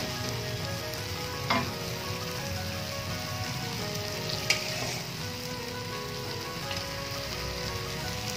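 Fish simmering with green chilies in a pan gives a steady, close sizzle and bubbling frying sound throughout, with a couple of faint clinks and no talking.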